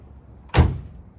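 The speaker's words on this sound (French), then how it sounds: "On va voir le bruit que font quand on claque les portes." A single solid steel Soviet-era car door slams shut nearby, one sharp heavy thud against a quiet background.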